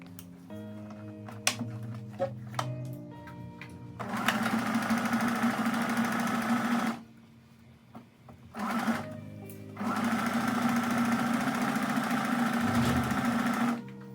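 A sewing machine stitches a one-centimeter seam on a puff sleeve dress, running in two sustained bursts of rapid, steady whirring with a brief pause between, preceded by soft handling and clicks.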